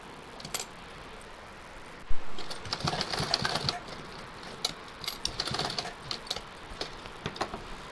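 A sewing machine stitching a choli in straight seams along a curved edge, running in short irregular bursts of rapid clatter broken by brief pauses, close and fairly quiet.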